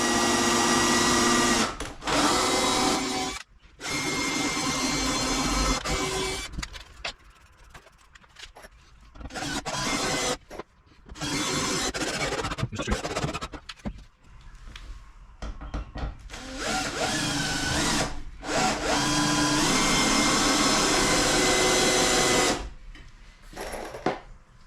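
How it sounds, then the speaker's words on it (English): A power drill runs loudly in long sustained stretches, broken by brief pauses, as it pre-drills screw holes into wood for wheel cribs. "We're going to tighten the drill bit up in the drill first, so again, we'll pre-drill the holes,"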